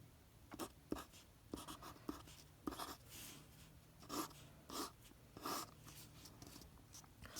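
A pencil sketches on paper in short, faint scratchy strokes that come in an irregular rhythm, close by and quiet, with no voices.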